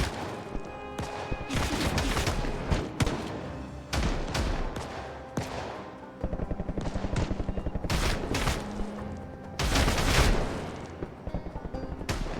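Bursts of rapid gunfire and booming blasts crackle in uneven clusters in the zombie survival game Project Zomboid, loud and chaotic, with no talking over them.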